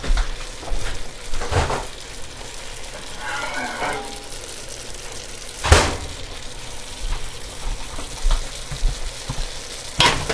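Tomato soup base in a pan gives a steady, close sizzle and bubbling simmer, with occasional clinks and stirring scrapes; no one speaks.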